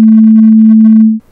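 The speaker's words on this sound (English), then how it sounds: "the sine wave," A single pure, steady electronic tone at a low-mid pitch, loud and unwavering, cutting off abruptly after just over a second.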